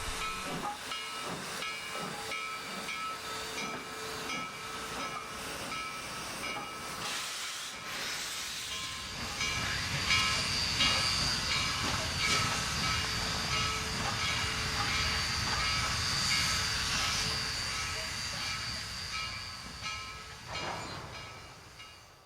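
Western Maryland 734, a steam locomotive, hisses steadily and loudly as it rolls ahead to couple onto a train, with clanking and rail noise and a short whistle-like tone partway through, while the hiss fades near the end.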